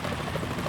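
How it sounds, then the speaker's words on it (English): A helicopter in the PlayStation 2 game Metal Gear Solid 2: Sons of Liberty drones with a steady, dense rotor whir that fills the brief moment without a break. "Is that a chopper I just heard?"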